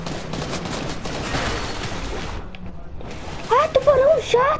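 Rapid gunfire aimed at the player in Fortnite, a dense crackle of shots that breaks off briefly, then a voice talks over the game sounds.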